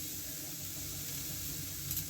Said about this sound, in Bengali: ক্ষীরটা দেবার আগে নারকেল আর তেজপাতাটা একটু ভেজে নেব